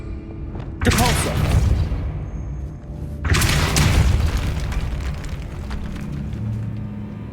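Depulso force spell cast in Hogwarts Legacy, two loud booming bursts a couple of seconds apart, each a heavy whoosh and rumble that slowly fades into a low ambient hum.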